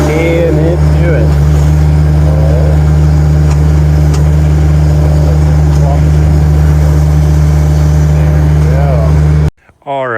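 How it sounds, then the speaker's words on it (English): A 2020 Bandit SG75 stump grinder runs steadily nearby with a loud, constant low engine drone, a voice talking over it throughout before the engine cuts off at the end. "here's a little walk around on our SG75 Bandit stump grinder"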